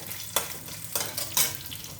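Cumin and spices roast in a little oil in a pan, giving a soft steady sizzle with a few brief scraping stirs, close and fairly quiet.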